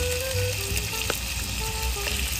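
Chicken breast frying in a pan with garlic and marinade, a steady close sizzle and crackle with faint stirring sounds throughout, no talking.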